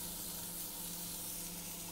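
A scallop sears in a smoking pan over high heat, giving a continuous, even sizzling hiss that stays fairly soft and unbroken, with no voices.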